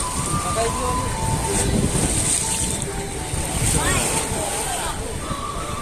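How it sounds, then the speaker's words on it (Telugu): Flooded Krishna river water rushes past in a steady, loud broadband roar with wind buffeting the microphone, continuous throughout, while faint voices come through now and then. "ఇలా చూడండి ఫ్రెండ్స్, వాటర్ ఏ విధంగా వెళ్తున్నాయి."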